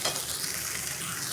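Okra and onion sizzle in a pan while being stirred, giving a soft steady hiss with faint scraping, heard briefly and fairly quietly without talk.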